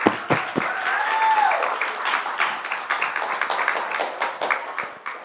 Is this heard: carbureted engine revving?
no